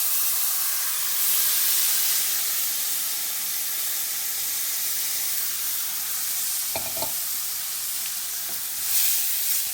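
Chopped tomatoes hit a hot frying pan for tofu tikka masala, giving a steady, close sizzling hiss with a few brief stirring clinks and scrapes near the end.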